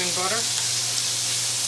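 Mushrooms and spinach sautéing in oil in a pan, a loud, close sizzle holding steady, with a brief voice-like murmur at the very start.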